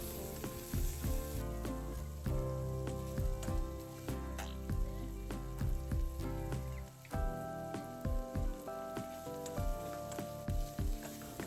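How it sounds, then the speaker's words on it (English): Steady sizzling and crackling of pork stir-frying in a hot pan as its moisture evaporates, with repeated clinks and scrapes of a utensil stirring throughout. "Stir-fry the pork until the moisture evaporates."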